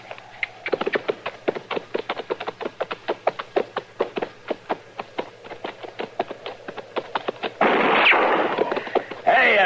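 Rapid, evenly spaced sharp cracks of gunfire from an old Western radio drama, sounding like a long burst of shots at night near a large fire, followed by a louder rushing noise toward the end.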